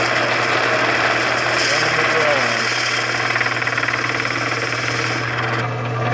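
A loud, steady mechanical whine and grinding hum of a drill boring wood on a lathe, running continuously, with a rattling drone close by and no pauses.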